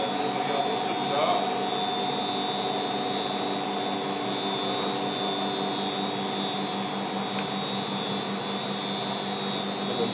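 A generator set running in an electrical training lab at a maritime school, a steady loud droning hum with constant tonal whine throughout, no pauses.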